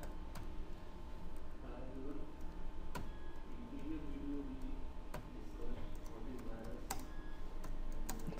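Keys on a computer keyboard clatter in irregular bursts as Java code is entered, soft and close, under a voice explaining the steps.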